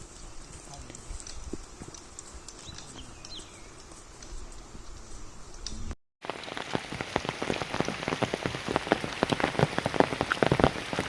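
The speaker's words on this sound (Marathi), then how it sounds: "पाऊस पण आलाय" Steady monsoon rain patters on a surface in a Konkan village, growing heavier and louder after a brief cut, with dense drops drumming continuously.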